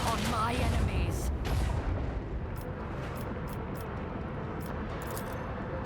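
Macro cannons fire in Warhammer 40,000: Rogue Trader as a heavy, sustained barrage of booming blasts. The opening two seconds are loudest, then a dense rumble continues alongside sharp high crackles.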